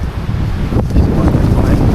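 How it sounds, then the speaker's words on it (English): Strong cold wind roars steadily across the microphone on a bike ride, loud and buffeting, with low rumbling gusts and no voices. "windy and it is cold"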